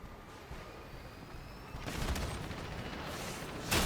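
Rockets fire and explode during a vehicular combat match in the video game Crossout: a quieter stretch of mechanical rumble builds to a dense burst of blasts midway, then ends with a sharp, loud hit.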